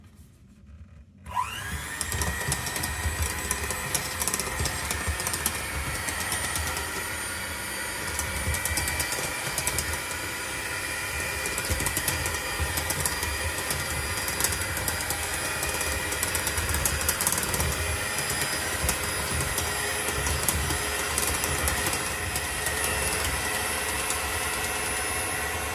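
An electric stand mixer turns bread dough for crusty rolls with dough hooks at its slowest speed, a steady motor whir with a light rhythmic knocking that starts after a brief quiet moment and runs on evenly, loud and close.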